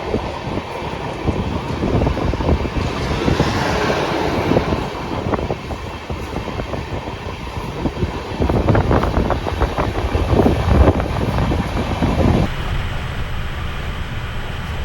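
The Shane Bhopal Express of Indian Railways runs at night, heard as a loud, continuous rumble of wheels and carriage with rhythmic clatter and wind noise throughout.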